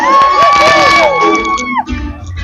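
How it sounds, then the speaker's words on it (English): A concert crowd at a show at the SF Masonic screaming and cheering, with a close, piercing high scream riding over the roar before it tapers off. "That was me screaming."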